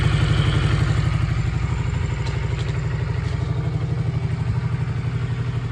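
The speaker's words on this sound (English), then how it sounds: "that's running better on that Carb with 1 cylinder, just so much better" A Honda CM125 motorcycle engine runs on a PZ26 carburettor, idling steadily with a close, even low throb and light mechanical clatter throughout.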